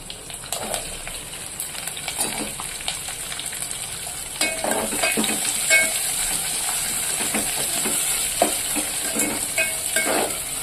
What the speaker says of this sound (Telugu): దీని గోల్డ్ కలర్ వచ్చే వరకు మనం ఫ్రై అయితే చేసుకుందాం ఫ్రెండ్స్.